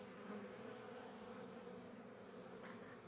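Honey bees swarm noisily over an opened hive during a frame inspection, their agitated, slightly aggressive buzzing a steady close drone with no breaks.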